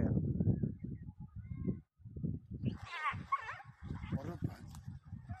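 A dog seized by a crocodile whimpers and yelps in high, shaky cries during the second half, while several people talk excitedly throughout.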